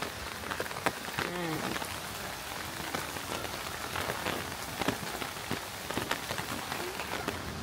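Steady rain patters on a surface with scattered droplet ticks, a soft continuous wash with faint voices in the background, in Kyoto.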